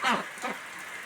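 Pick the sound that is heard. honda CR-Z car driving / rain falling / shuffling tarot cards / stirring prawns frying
rain falling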